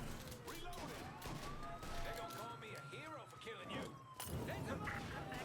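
Revolver gunfire in Mafia Definitive Edition, played on a Steam Deck, with sharp shots standing out from a busy game mix of engine-like rumble and sweeping tones, while someone talks over the action.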